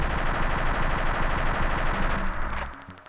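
Rapid gunfire from the retro shooter game Shots Fired - Domination, a dense burst of shots filling nearly the whole moment before cutting off abruptly near the end.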